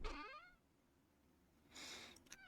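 A cat is petted at home and gives a short, quiet meow, then soft breathy rustling and purring, close and faint, with no talking.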